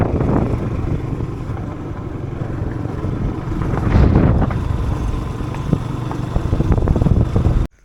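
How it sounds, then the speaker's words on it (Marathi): A motorcycle ridden on the Murbad–Mhasa road in Maharashtra, with a steady engine drone and strong wind buffeting the microphone throughout, loud and continuous with no talk. "चला फायनली राईड चालू झालेली आहे आपली."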